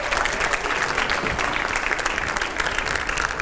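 Loud, steady applause from a TV studio audience, dense and continuous throughout, with no talk over it.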